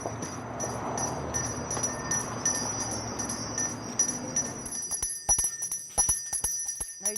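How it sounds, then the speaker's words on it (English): A Salvation Army bell ringer outside a business shakes a hand bell during the Christmas season, giving bright, repeated metallic rings. The rings sit over street noise at first, then turn into sharper separate strikes near the end. "Salvation Army bell ringers are standing post at several businesses."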